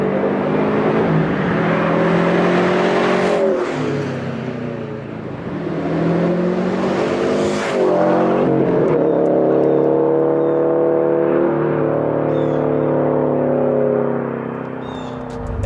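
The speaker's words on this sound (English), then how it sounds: "these two exhausts sound completely different, but they both sound really good" Subaru WRX with FA20 DIT engine and AWE catback exhaust revving repeatedly, loud and close, with rising and falling engine tone throughout.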